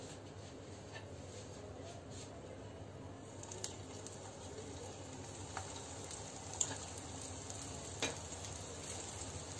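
Leftover pieces of a potato snack fry in a pan of oil with a soft, steady sizzle, broken now and then by light clicks and stirring scrapes.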